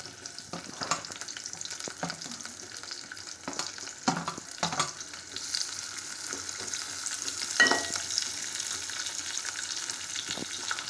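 Chopped onion frying in oil in a pan for egg curry, a steady close sizzle and crackle with occasional stirring scrapes and clinks, no voices.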